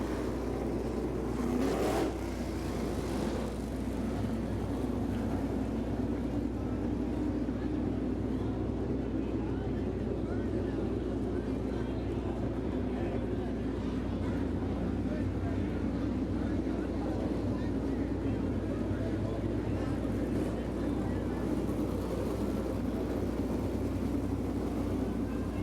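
Low rumbling 305 sprint car engines at Jacksonville Speedway idling and droning past the start-finish line under caution, a steady heavy engine drone with one brief rising pass near the start, with a voice faintly underneath.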